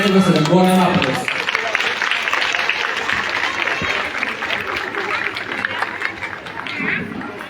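A crowd claps at the opening of a traditional-products fair and ethno festival, a broad sustained wash of applause and chatter that follows a man's brief spoken words over a public-address system.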